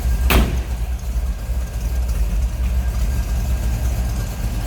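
A 1960 Chevrolet El Camino's 350 V8 idles with a steady, deep, mellow rumble heard from the rear, loud and close, with a brief sharp click near the start.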